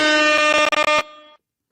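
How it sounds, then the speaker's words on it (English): A loud, blaring air horn sound effect plays alone on a live wrestling talk show, sustained for about a second with a brief stuttering break before cutting off. "Air horn."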